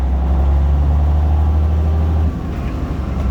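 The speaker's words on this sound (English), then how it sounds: "Did you hear the truck?" A truck engine rumbles steadily up close, a deep droning idle that shifts slightly lower partway through.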